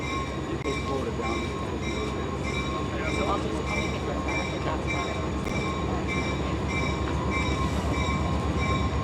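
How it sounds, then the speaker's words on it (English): A train rolls slowly past during an outdoor search, a continuous dense rumble of railcars with rhythmic wheel clatter and faint squeals, close and steady throughout, with no talking over it. "the reason that the train is passing by slowly"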